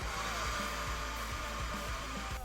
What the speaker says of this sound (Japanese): 一旦ねこうドライヤーで表面を温めていきます